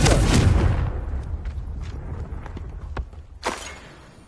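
A Confringo blasting spell cast in the Hogwarts video game erupts as a loud, close burst at the start and fades away, followed by a sharper, shorter blast a few seconds later.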